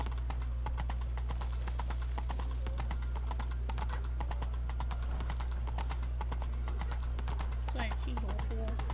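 Roach, a horse in a video game, trotting with a brisk, continuous clip-clop of hooves under a constant loud low hum. A voice speaks briefly, and a few faint tonal game sounds come near the end.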